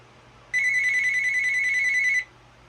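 A Uniden EXI976 cordless telephone rings once, a bright electronic warble that starts abruptly and holds for about two seconds before cutting off, loud and close against a quiet room.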